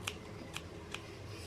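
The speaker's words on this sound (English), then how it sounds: "so I just pulled it on tight and then I cut off the excess" Scissors snip off excess yarn after a crochet bag strap is pulled tight, three faint, brief clicks spaced about half a second apart in a quiet room.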